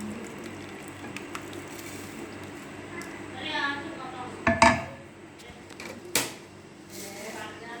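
Cooked milk vermicelli is served from a pot with a few sharp clinks of utensils against the cookware and some soft scraping, under a quiet background and occasional speech.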